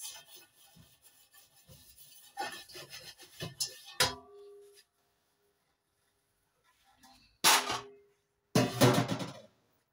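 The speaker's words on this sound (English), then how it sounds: "We are going to get all our dough together and also scrape all the sticky pieces." Sticky dough is gathered and scraped off a waxed work surface in uneven rubbing and scraping strokes, moderately close, broken by a quiet gap before two louder scraping bursts.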